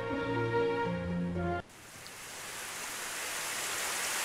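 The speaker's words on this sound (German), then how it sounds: "Auf einmal begann es zu regnen." Steady rain hiss for a visual novel scene sets in abruptly after a musical passage ends, a broad even wash of falling rain that holds constant and fairly loud to the end.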